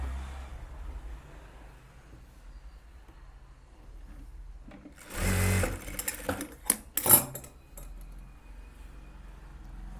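A sewing machine stitches a quarter-inch fold along bias-cut blouse piping fabric, with a low steady hum giving way to two short, close bursts of rapid stitching midway. No one speaks.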